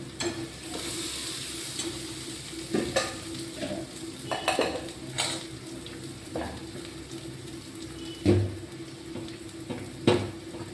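Cooked fine-grain rice is stirred and scraped in a hot pan, with a steady frying sizzle under repeated metallic clinks and scrapes of a utensil, close and fairly quiet, with no talking.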